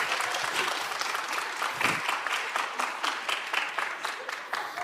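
Church congregation applauding a preacher during a sermon, a steady, dense clapping that fills the room at even loudness and fades slightly toward the end, with no voices over it.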